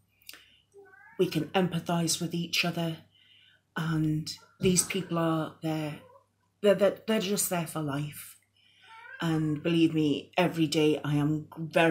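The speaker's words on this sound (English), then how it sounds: "that's another one of my cats that you can hear, if you can hear that meowing" A house cat meows repeatedly indoors, short drawn-out cries mixed in with a person talking nearby.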